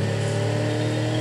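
Car engine in a video game played on an ROG Strix SCAR 17 laptop, a steady mid-pitched hum droning continuously at moderate level with no talk over it.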